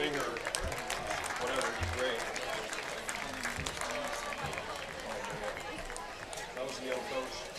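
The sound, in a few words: audience applause at a high school football game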